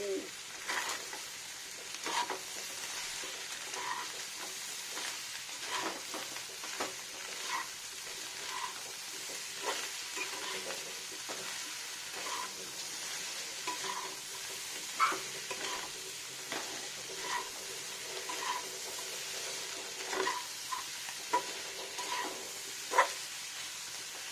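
Fish roe frying in mustard oil for a raw pumpkin curry, a steady close sizzle with repeated scraping stirs and spoon clicks spaced through the whole stretch, no talking.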